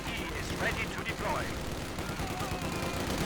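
Machine gun fire in the Company of Heroes 2 strategy game, a German MG sounding as rapid bursts mixed into a dense, continuous battle din of distant gunfire and explosions, under steady background noise.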